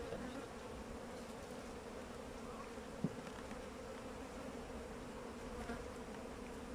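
A dense, steady drone of many honeybees buzzing close by at a two-storey hive, a constant hum with a single brief click partway through.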